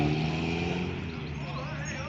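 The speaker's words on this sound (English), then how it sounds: "And there goes the TR4." A Triumph TR4 engine drones past at close range, its steady, fairly loud note shifting slightly as the car goes by.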